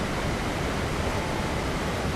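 Steady, even rushing of a waterfall in ARK: Survival Ascended, a continuous close roar with no breaks and no voices.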